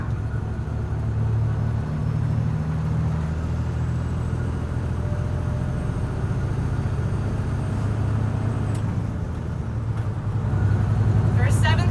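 Truck engine rumbles low and steady from inside the cab while driving, a continuous drone with a slight change in pitch near the end as it shifts into seventh gear.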